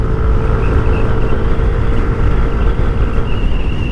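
A Yamaha NMAX 2020 scooter engine runs with a loud, close, steady motor rumble and no clear rise in pitch, and no voices are heard.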